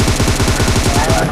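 Rapid automatic gunfire from BGMI (Battlegrounds Mobile India), a dense burst of repeated shots firing steadily for over a second.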